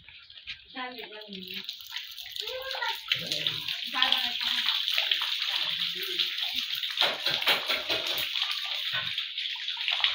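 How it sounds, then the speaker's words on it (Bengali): Water splashing and running onto the floor of a room being wetted before plastering during house construction, a steady wash of water with voices talking over the start. "প্লাস্টারের জন্য ঘরে জল দেওয়া হচ্ছে"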